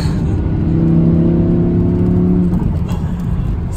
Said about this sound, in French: Profitons de cette belle mélodie du V10 et de ces gros moteurs.